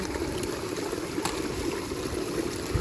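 A forest stream flowing on a jungle trek, a close, steady rushing of water with a constant loud wash and no speech.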